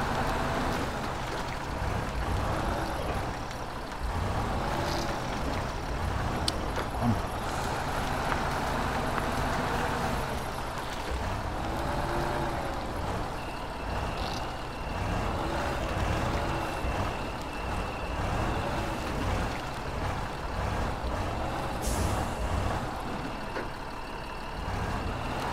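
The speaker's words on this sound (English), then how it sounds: "So here comes always the most fun part, which is reversing with a trailer." A heavy off-road truck in Spintires: Mud Runner backs up while towing a trailer, its engine droning steadily and loudly with rising and falling revs for the whole stretch, plus a faint high tone entering midway.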